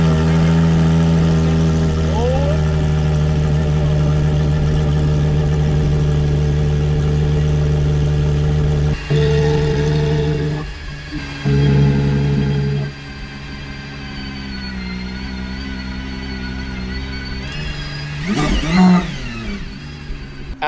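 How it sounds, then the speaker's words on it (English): A V12 sports car engine idles with a deep, steady rumble, then revs sharply several times. The blips rise and fall loudly near at hand, and a voice speaks briefly under the engine noise. "Absolutely insane sounding car. That is crazy sounding V12"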